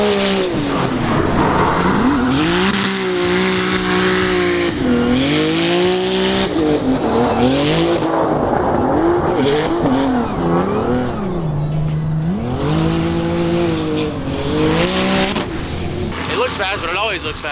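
Formula Drift car on a drift track running a low Ackerman setup, engine revving hard with rising and falling pitch as tires squeal and skid continuously; loud and close, with people talking over it.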